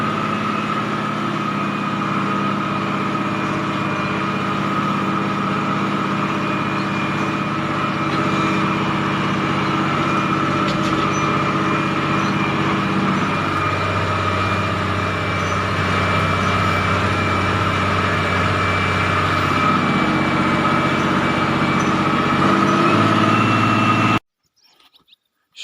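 An MTZ 1221 tractor engine runs loud and steady for a long stretch, its note deepening as the machine pulls away and drives off before the sound cuts abruptly, with no voices.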